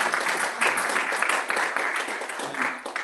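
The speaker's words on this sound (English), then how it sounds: "Let's give a round of applause." Audience at a journalism lecture applauding in person, a sustained wash of many hands clapping at moderate loudness, fairly even throughout.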